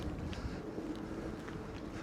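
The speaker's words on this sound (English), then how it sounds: "I apologise for the wind." Steady low rumbling wind buffeting the microphone at a harbour, constant and fairly loud with no other clear sounds.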